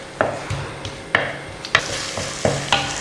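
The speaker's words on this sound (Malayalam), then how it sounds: "അതിന് വേണ്ടിയിട്ടാണ് ഞാൻ ഉള്ളി ഇച്ചിരി നേരം ഒന്ന് വഴറ്റുന്നത്." Shallots sautéing in a pan for a duck curry, giving a soft continuous sizzle broken by sharp, irregular spoon scrapes and taps against the pan, close and clear with no talking.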